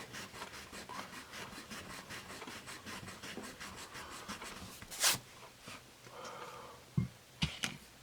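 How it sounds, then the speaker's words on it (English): Foam eraser rubbing soft 3B/5B graphite pencil marks off paper: steady rhythmic back-and-forth scrubbing strokes, close and quiet, ending with a few louder scuffs and taps. "Try a foam eraser here."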